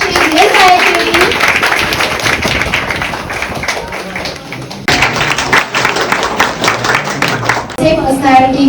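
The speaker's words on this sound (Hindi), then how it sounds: "तो तालियां रुकनी नहीं चाहिए।" An audience claps for Miss IIKDN at the main event of an anniversary celebration: uneven, lively clapping with thumps and taps, mixed with voices and background sound that briefly drops out partway through.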